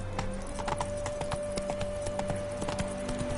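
Roach, a horse in The Witcher 3, clip-clops at a steady walking rhythm over a constant tonal game ambience, hoofbeats close and fairly loud with no talking.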